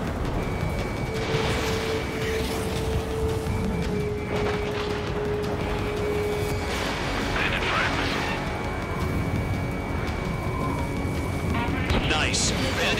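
A railgun fires in the Ace Combat 7 combat flight game, with a dense, continuous roaring rumble and booming blasts filling the whole stretch while radio voices talk over it.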